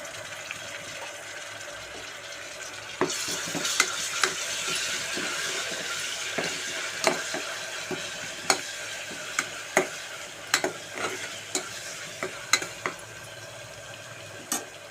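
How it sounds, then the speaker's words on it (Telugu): Ginger-garlic paste frying in a pan for chamagadda (taro root) pulusu, a soft continuous sizzle broken by a series of sharp spoon taps and scrapes that come more often toward the end, with no one talking. "ఇప్పుడు అల్లం వెల్లుల్లి పేస్ట్ వేసుకుందాము."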